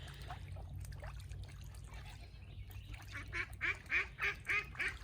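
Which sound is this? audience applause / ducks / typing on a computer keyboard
ducks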